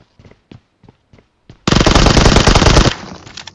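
Single gunshots pop at a steady rhythm, then a loud, sustained burst of rapid automatic fire erupts close by in PUBG Mobile, tapering into a few trailing shots.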